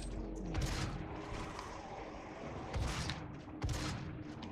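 Shots fired at a zombie in Doom: a few sharp, loud gun blasts spaced over several seconds, standing out above a steady, busy background of game noise.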